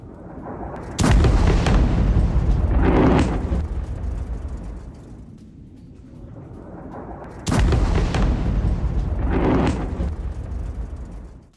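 Two heavy bombardment explosions strike a Hezbollah post, each a sudden deep boom followed by several seconds of rumbling decay, spaced about six seconds apart, with no talk.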